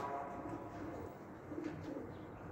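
Wild pigeons coo softly at a distance from a rooftop, low murmuring calls repeating under steady ambient noise, with no talk.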